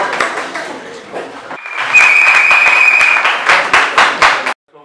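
An audience claps for an association member at an open-house event for a wrestling association, a loud sustained round of applause with voices mixed in and a whistle-like tone through the middle, then cutting off abruptly.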